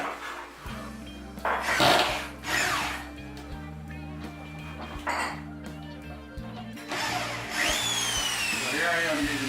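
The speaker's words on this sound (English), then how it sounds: "So here I am using the same screw gun 26 years later." An old Sears Craftsman screw gun driving screws into drywall, its motor whining in short bursts at varying pitch between pauses while someone talks over it.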